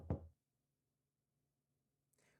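A single loud knock lands on a door, sharp and close, and then quiet silence follows.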